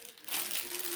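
A sheet of glossy paper crinkles as it is handled, a brief crisp rustle that starts quietly and swells into a sustained crackle up close.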